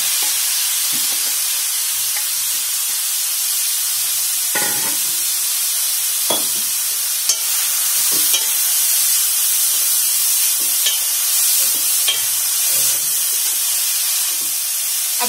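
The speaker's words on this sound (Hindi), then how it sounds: "अब इसी घी में हम जो हमने गाजर कद्दूकस की हुई है वो डाल देंगे।" Grated carrots frying and being stirred in hot ghee for carrot halwa, giving a steady close sizzle and hiss throughout with occasional scraping stir knocks, no talk.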